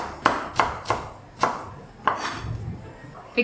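A knife chops fresh coriander on a cutting board in a Northern Thai kitchen, with about six sharp, close knocks in an uneven rhythm, each a crisp thud of blade meeting board.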